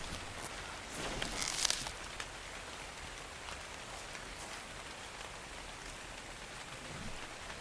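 Steady rain pours down in the survival game Ark: Survival Evolved, a continuous dense patter on surfaces with a brief louder swell, close and even throughout.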